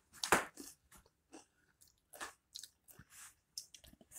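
Salt and vinegar potato chips crunch loudly up close, bitten and chewed in irregular bursts with quiet gaps between, the first bite the sharpest.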